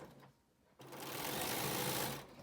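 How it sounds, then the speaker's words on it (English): A sewing machine stitches a 1/4 inch seam along the folded top of a fabric face mask, its motor whirring in a steady, close, continuous run after a brief pause. "And then I'm gonna just sew a 1/4 inch down."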